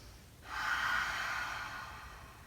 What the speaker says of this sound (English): Let's take a breath in through the nose and a breath out through the mouth.